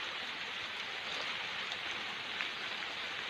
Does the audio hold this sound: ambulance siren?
no